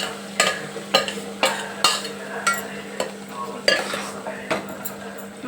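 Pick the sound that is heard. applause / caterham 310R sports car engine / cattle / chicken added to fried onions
chicken added to fried onions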